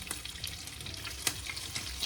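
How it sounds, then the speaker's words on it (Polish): Steady crackling sizzle of lard frying in a pan, with sharp pops and spits breaking through now and then, close up and fairly quiet. "To jest właśnie to. Smażenie smalcu."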